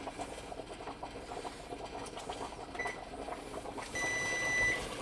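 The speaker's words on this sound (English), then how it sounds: "And then I'm going to set the timer." Electronic beeps from an oven timer being set while cooking jambalaya, a few short tones sounding over steady kitchen noise from a burner.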